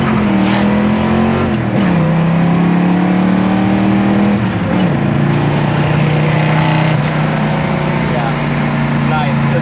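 A low-mileage original 1970 Chevy Nova SS drives down the road, its V8 engine rumbling steadily and loud, with pitch shifting as it works through gears; a person talks over it.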